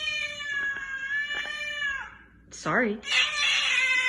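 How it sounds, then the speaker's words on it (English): A pet cat at home gives long, insistent meows and a wavering yowl, loud and close, with a person briefly speaking in between. "Our cat does not like the fact that we're all home quarantined."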